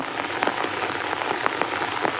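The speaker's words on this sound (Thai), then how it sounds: "ฝนตก3 คืน 3 วัน" Rain falls on a surface on a rainy morning, a close, steady patter with distinct sharper drips and taps popping out irregularly above the hiss, with no voices.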